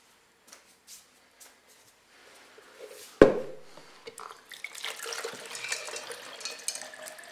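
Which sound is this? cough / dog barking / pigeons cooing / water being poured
water being poured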